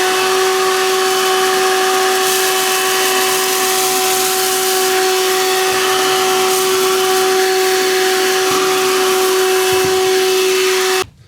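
A Philips Minivac handheld vacuum running continuously while sucking up rice, a loud steady whine with a high tonal hum that stops abruptly at the end.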